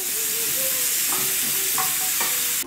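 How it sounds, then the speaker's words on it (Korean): Meat sizzling on a small one-person charcoal brazier grill, a loud steady crackling fry that fills the whole stretch, close to the mic, with faint tonal squeaks over it and no talk. "그래도 여전히 고기 굽는 소리는 좋네요"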